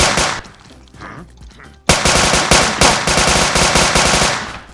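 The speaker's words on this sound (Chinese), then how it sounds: "我下面开火焰弹了" Rapid, loud automatic gunfire firing incendiary rounds in The Mining Dead, a co-op survival shooter, opens with a burst, pauses briefly, then resumes as a sustained, dense stream of shots through the end.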